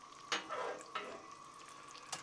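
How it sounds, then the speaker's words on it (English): Chicken shallow-fries in oil on a Blackstone griddle, giving a soft, steady sizzle nearby with a few sharper crackles and pops over about two seconds. "Shallow frying on Blackstone is actually one of my favorite ways to cook"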